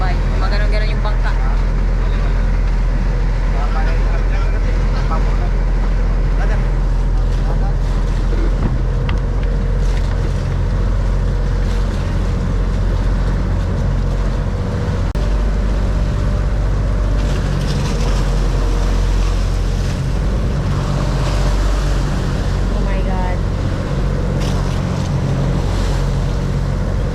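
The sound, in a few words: boat riding through big waves at sea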